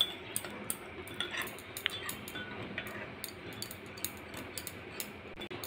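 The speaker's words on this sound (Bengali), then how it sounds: "অল্প জল দিয়ে মশলাটা ভালো করে গুলে নিতে হবে" Spice paste of ground ginger being mixed with a little water in a bowl, heard as faint, quiet clinks and ticks of a spoon against the dish, irregular and close.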